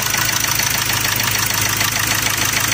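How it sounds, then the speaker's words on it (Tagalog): A loud Ford Ranger 2.2L diesel engine runs steadily with a rough, knocking vibration from misfiring, close and continuous, with no voices. "umandar na yung makina"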